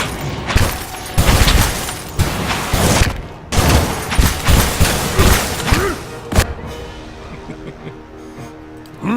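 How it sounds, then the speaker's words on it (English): Fireballs burst and roll in the fantasy game Pillars of Eternity, a rapid volley of loud booming explosions and crackling impacts coming in clustered bursts, then thinning to a quieter rumbling tail. "Deadly balls of fire rolling through the neighborhood."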